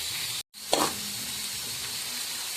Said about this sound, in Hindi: ये टमाटर और 2 हरी मिर्चें इसमें ऐड कर दूंगी और नीचे मैं थोड़ी फ्लेम ऑन कर दूंगी